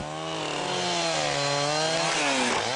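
Chainsaws roar steadily while felling a great tree in an ancient forest, a loud, continuous engine whine whose pitch rises and falls under load, with no speech.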